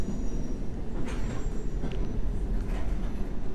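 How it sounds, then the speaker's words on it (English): Subway train in the World of Subways 3 game braking hard on the approach to Hammersmith, a steady rumbling roll with faint high wheel squeals breaking through. "Go ahead and put on the brakes quite hard here."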